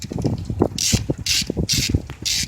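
A ratchet clicks rapidly in several bursts while tightening hose clamps on the radiator of a 1996 Honda Civic, close and loud, each run of ratcheting split by short pauses.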